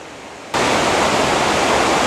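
Catawba Falls cascading down a creek, a sudden full roar of rushing water that starts after a brief quieter moment and then holds as a loud, steady wash.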